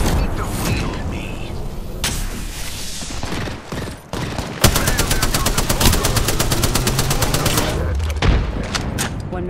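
Rapid automatic gunfire from a firefight in Apex Legends rattles loud and close in long sustained bursts, with a brief lull before a heavier stretch of fire and sharp single shots near the end. Game voice lines sound over it.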